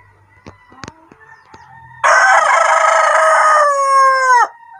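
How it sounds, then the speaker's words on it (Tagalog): A Rhode Island Red rooster crows once, close and loud, in a long drawn-out cock-a-doodle-doo that ends abruptly. A few faint clicks and knocks come before it in an otherwise quiet farmyard. "Tapos dito yung ating Rhode Island Red na roster."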